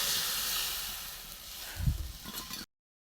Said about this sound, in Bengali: সর্ষে পোস্ত বাটা ঢেলে দেবো। অল্প করে জল দিয়ে দেবো।